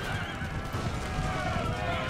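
Horse in the Empire Total War video game whinnying amid battle noise, a drawn-out neigh with clopping hooves and voices layered underneath.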